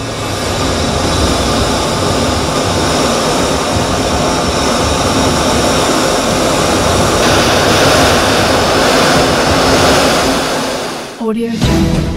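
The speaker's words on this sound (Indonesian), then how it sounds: "prototipe ketiga jet tempur canggih KF-21 Boramae Indonesia dan Korsel sukses terbang" A KF-21 Boramae stealth fighter jet roars loudly and steadily in flight, a broad continuous engine rush that holds for several seconds before abruptly cutting off near the end.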